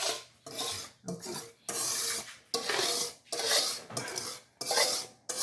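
Wire whisk rasping and scraping around a bowl as wet ingredients are mixed into dry gingersnap cake batter, in repeated rhythmic bursts of brisk strokes with short pauses between, close and fairly loud.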